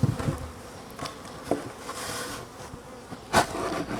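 Honey bees buzz around an opened hive during a colony split, a steady low insect hum with occasional louder passes close by and a few brief knocks.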